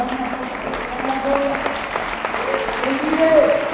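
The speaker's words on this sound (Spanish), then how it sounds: "Dale un aplauso fuerte al Señor." Congregation applause at a church district congress, steady clapping running beneath shouted voices and singing-like tones, swelling slightly toward the end.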